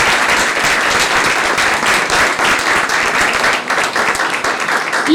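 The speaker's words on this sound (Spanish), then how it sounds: "Un gran aplauso." An audience at a cultural talk on theatre production gives a big round of applause, loud, dense and sustained clapping throughout.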